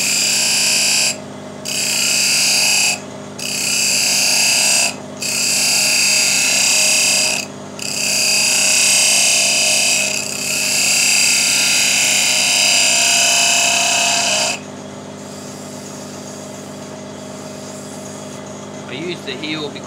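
A skew chisel makes smoothing cuts on a jarrah wood barrel cup spinning on a lathe. A loud, bright, steady scraping whine comes in several bursts with short pauses, over the lathe's constant hum.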